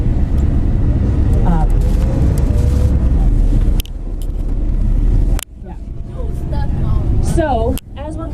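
A tour bus driving through Zion Canyon, heard from inside as a loud, steady low engine and road rumble with muffled voices, and a couple of abrupt cuts in the sound.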